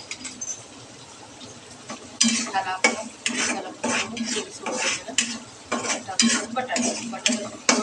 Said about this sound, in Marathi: बटाटा थोडासा तळून घ्यायचा